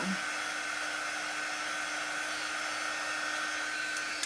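A hair dryer blows over wet chalk paste on a wooden craft board, giving a constant, even whooshing hum at close range that continues uninterrupted, with a tiny click near the end.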